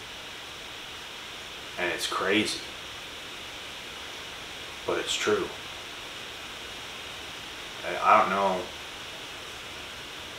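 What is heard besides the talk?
heavy rain pouring down outside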